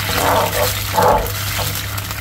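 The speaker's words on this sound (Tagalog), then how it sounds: "Dadagdagan ko pa siguro ng tubig ko." Water is poured into a cooking pot of sauce in a home kitchen, making a few splashing, gushing bursts that rise and fade over about two seconds, with no talking.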